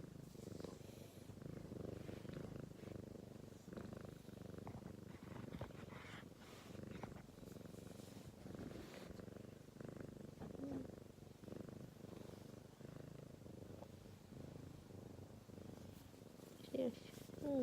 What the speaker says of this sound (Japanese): 寄ってきてすごくゴロゴロ言ってます。